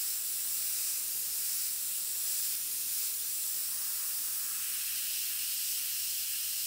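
An airbrush spraying paint in a wide spray, a steady, even hiss running unbroken throughout, soft and close with no pauses.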